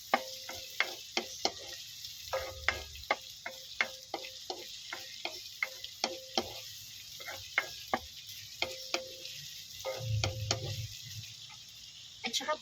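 Chopped onions sizzle steadily in a frying pan while a utensil scrapes and taps against the pan in a quick, irregular rhythm, close and fairly loud, with no talking.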